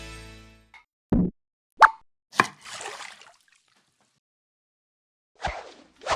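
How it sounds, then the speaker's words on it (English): A spoon stirring holiday punch made with ginger ale in a bowl gives several separate plops and clinks against the bowl, close and distinct, with short wet sloshing between them and silence in the gaps. "And then I'm going to just give this a quick stir."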